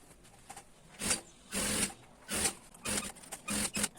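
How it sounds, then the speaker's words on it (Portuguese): Sewing machine stitching a straight seam through the padded layer of a toiletry bag in several short quick bursts with brief stops between them, close and alone. "você vai passar a costura reta toda a parte ali da manta"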